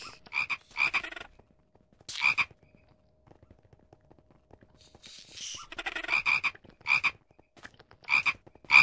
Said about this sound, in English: Why the hell are they sounding like frogs?